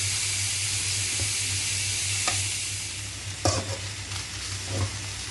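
Fried rice with dried anchovies is stirred in a pan, a steady sizzling hiss broken by a few sharp scraping knocks of the spatula, close and alone without talk.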